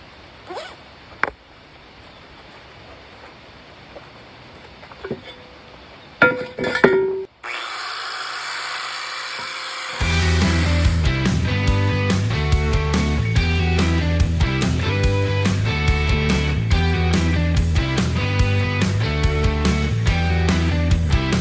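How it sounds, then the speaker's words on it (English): Paint buffed off and welds ground down on a welded steel chimney, first as scattered scraping and knocks, then a loud, steady power-tool whine with a rhythmic churn that continues to the end, close up and with no talking. "I'll just buff out the paint, shave a little bit off each of the welds, and inspect the weld quality"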